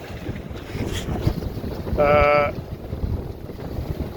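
Wind buffets the microphone on a small boat crossing toward Burgh Island, a steady broadband rush and rumble throughout, with a brief tonal whine partway through.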